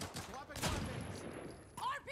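Rocket launches and pump-shotgun blasts in the Caliber shooter game fire in a quick cluster of loud bursts, followed by a rising whistling whoosh, with game voices mixed in.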